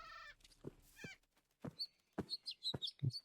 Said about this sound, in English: It's a mythic mount. It's a chocobo.